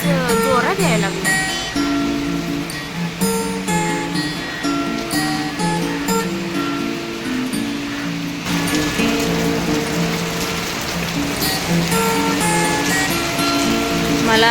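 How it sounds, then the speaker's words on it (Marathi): Heavy rain pours down steadily as a dense, loud hiss of drops, with tonal background music running over it throughout. "हा नेमका जोरात पाऊस आलाय"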